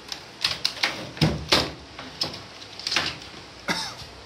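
A single computer keyboard being handled and set down in a workshop, giving sharp plastic clacks and knocks in an irregular string of about ten hits, close and fairly loud, with no talk over it.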